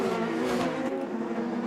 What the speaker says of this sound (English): He lost 2 car lengths to Chavez just getting on the throttle there.